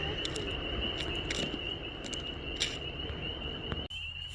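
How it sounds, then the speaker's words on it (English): Frogs call by a creek in a dense, continuous chorus, a steady high trill that holds throughout at moderate loudness with faint rustling in the background. "Those frogs. It's one of my favorite sounds in the world."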